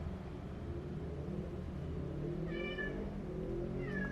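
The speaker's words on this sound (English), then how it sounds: "Oh, my cat's upset." An upset house cat gives a couple of short, clear meows near the end, over a steady low rumble of background noise.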